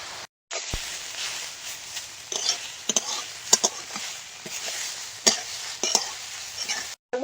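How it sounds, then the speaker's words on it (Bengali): Greens (potato leaves) being stir-fried in a pan, a steady soft sizzle with intermittent sharp scrapes and clicks of a spatula stirring, close and moderately loud with no talking. "শাকটা নাড়াচাড়া দিয়ে দিয়ে ভেজে নেব"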